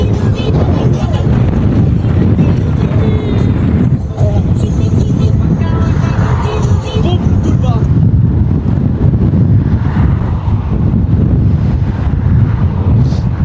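Strong wind buffeting the microphone outdoors during a bike ride from Blackpool to Liverpool, a loud continuous rumble with traffic-like roar, while someone talks over it throughout.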